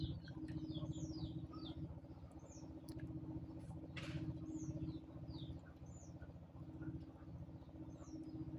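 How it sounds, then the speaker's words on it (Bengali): New potatoes are rubbed and scraped to loosen their skins, a faint, steady patter of quick scratchy strokes, with occasional bird chirps in the background. "নতুন আলু সিলানো কিন্তু খুব ভালো সুবিধা, একেবারে হালকা করে ঘষা দিলেই কিন্তু আলুটা একবারে পরিষ্কার হয়ে যেতেছে।"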